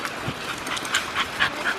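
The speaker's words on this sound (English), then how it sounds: "There's so many dogs here." Dogs at a dog park give a few whines and yips at close range, rising and falling in short bursts over a noisy outdoor background.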